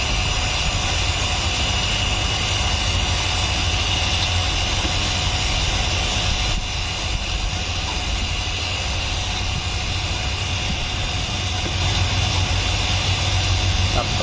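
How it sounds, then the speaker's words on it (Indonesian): A vacuum pump runs during repair of a refrigerator that is not cooling, giving a loud, steady mechanical drone with a constant hum that continues unbroken throughout. "ini untuk mesin vakum masih menyala"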